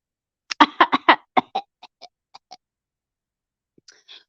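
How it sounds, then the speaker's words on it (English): A quick run of raspy throat-clearing bursts, loud at first and then trailing off into softer, fainter rasps. "I'm clearing my throat"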